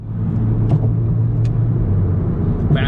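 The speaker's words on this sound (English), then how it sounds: "Versus this downshifting, such a nice tone." An MK7 Golf GTI with a DSG gearbox downshifts by paddle shifter, its engine giving a close, steady low rumble that swells slightly, with faint clicks near the start and middle and a brief higher burst at the end.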